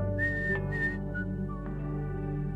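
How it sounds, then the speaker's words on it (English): A man whistles a bright, melodic tune while setting off for work in the morning, with clear sustained notes and short pauses between phrases, close and alone with no talking. "her dad left for work with a whistle and a wave."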